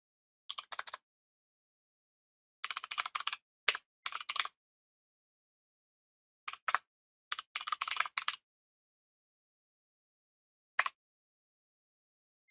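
Keys clattering on a computer keyboard while code is typed, in irregular clusters of quick taps separated by silent pauses, close and crisp with no voices.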